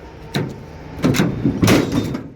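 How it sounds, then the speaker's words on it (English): Tailgate on a 2006 Cummins pickup truck dropping open, a clunk followed by two heavier metallic bangs as it swings down and hits its stops, fairly close and loud with no talking. "if you guys hate having a tailgate that does this"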